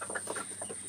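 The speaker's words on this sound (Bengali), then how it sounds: "এই যে এখন আমি এর ভিতরে মুরগি পালি, দেখছেন কত সুন্দর মুরগি" Egyptian Fayoumi hens in a backyard coop clucking in a quick run of soft, close calls, with a steady high whine in the background.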